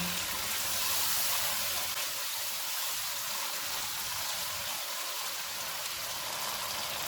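Red chili powder, turmeric and crushed red chili frying in a pan, a steady close hiss and sizzle that holds evenly throughout with no talk.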